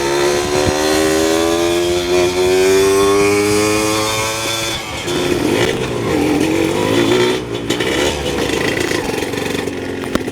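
A loud Yamaha DT100 trail motorcycle engine drones steadily, its pitch rising and falling as it revs while riding, with brief bursts of a voice.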